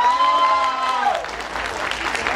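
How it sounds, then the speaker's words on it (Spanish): Audience applause and cheering for a drag show contestant during a Halloween-week drag diva competition, a steady crowd wash with a host's voice audible over it in the first half. "Ahora aplausos para la señorita Aphrodite."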